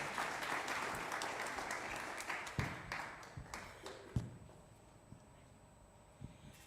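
Scattered applause at a World Robot Olympiad awards ceremony in Zimbabwe welcoming the Deputy Director, a moderate crowd clapping unevenly with a few sharp, louder claps standing out before it thins and dies away.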